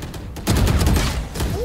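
Gunfire in the video game Valorant, a dense loud burst of rapid shots that swells after a quieter start and continues in short bursts, heard close with faint voice chat nearby.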